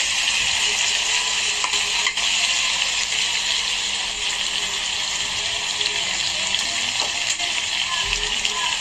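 Dried loitta fish stir-fried in a spice masala, giving a steady, loud sizzle and frying hiss throughout, with occasional scraping stir strokes and no talking.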